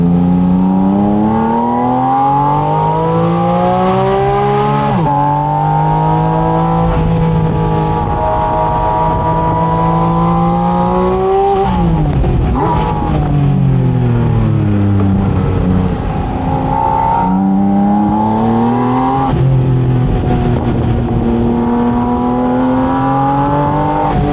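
A Spyder RS sports car engine, unlocked to 9k rpm, revs hard while driving, its pitch climbing and dropping in repeated loud, close sweeps that run continuously with no talking.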